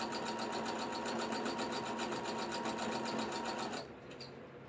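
A sewing machine that skips stitches runs at a steady, rapid rhythmic chatter while stitching an ugly sweater wall hanging, close and loud, then halts abruptly with a couple of small clicks.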